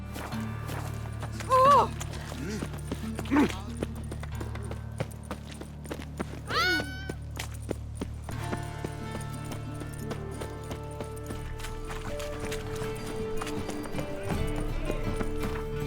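Roach the horse galloping in The Witcher 3, steady hoofbeats drumming close up under game music and ambience, with a brief shout from the rider.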